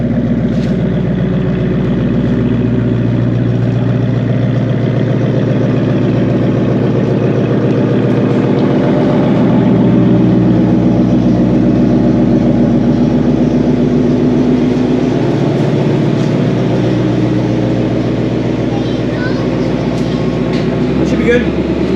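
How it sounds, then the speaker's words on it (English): A Ford Mustang GT (S550) engine rumbles steadily and loudly at low revs as the car is backed up in a home driveway, a continuous deep drone throughout, with people talking over it. "So we're gonna do it the old fashioned way, back up the car."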